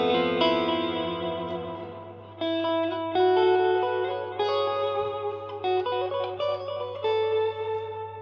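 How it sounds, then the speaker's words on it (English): An electric guitar runs through an Electro-Harmonix Canyon delay and looper set for tape-style distortion, its sustained, thickened notes ringing with echoes and layered chords, loud and alone. "that's adding a bit of, you know, tape distortion onto the notes."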